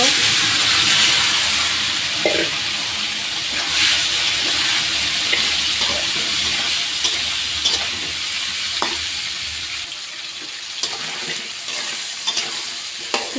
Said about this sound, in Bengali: আমি এখন কুমড়াগুলো ভেজে নিব